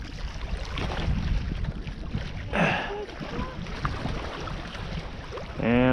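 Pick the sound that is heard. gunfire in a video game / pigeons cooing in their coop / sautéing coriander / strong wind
strong wind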